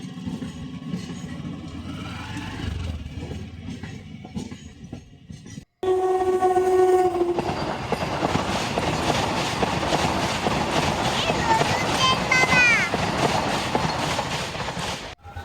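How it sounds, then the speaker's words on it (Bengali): Moving train in rural Bengal, first a muffled rolling rumble, then a sudden louder rattling clatter of wheels with a sustained horn blast and shrill squealing tones, continuous and close. "কি নড়ে নড়ে যাচ্ছে ট্রেনটা"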